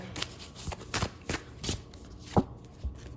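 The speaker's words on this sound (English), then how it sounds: "So let's pull an oracle card here." Oracle cards shuffled by hand during a tarot reading, a close run of papery riffs and soft slaps coming in an uneven rhythm and ending with a card drawn, with no talk over it.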